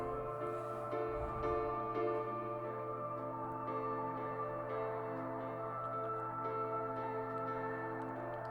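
Music with a lingering echo effect, sustained layered tones ringing steadily at full volume throughout with no talking.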